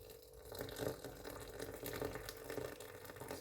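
Freshly boiled water from a kettle pours onto tamarind in a faint, continuous, gentle gush.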